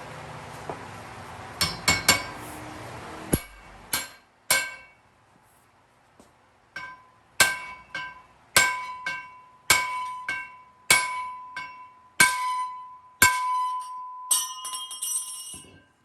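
Metal parts struck repeatedly with a hammer while replacing a bent truck axle, about a dozen sharp ringing clangs spaced irregularly over quiet, some leaving a sustained metallic ring.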